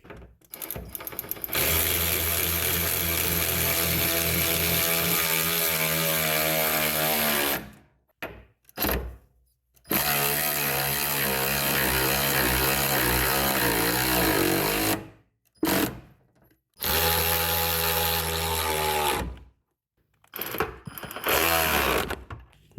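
A power tool fastens the rear axle assembly of a BMW E46 under the car, loud sustained whirring bursts that rise and hold for several seconds, broken by short pauses, close by.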